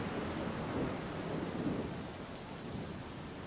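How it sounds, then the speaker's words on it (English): A thunderstorm rumbles overhead with steady heavy rain, a continuous low roar of thunder and downpour, soft and even, with no voices. "The thunder and lightning raged overhead, directly above the channel."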